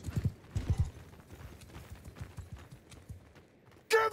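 Horse hooves clip-clop in a Mount & Blade 2 Bannerlord battle, a quick uneven run of soft thuds at close to middle distance, with a brief loud burst at the end.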